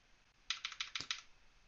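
A computer keyboard clacks in a quick burst of about seven crisp keystrokes, close and clear over a quiet background.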